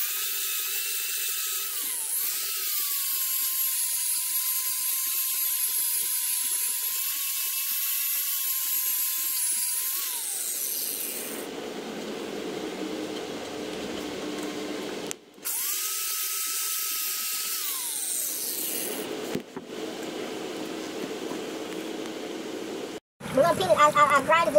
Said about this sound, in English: Alright, I'm gonna grind the rest of that down.